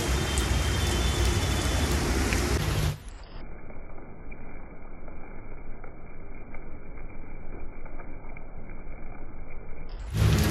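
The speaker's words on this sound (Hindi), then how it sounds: "मज़ा तो आ रहा बारिश देखने में।" Rain falls steadily outdoors as a constant, even hiss of drops, turning duller and muffled through the long middle stretch before the full bright wash returns.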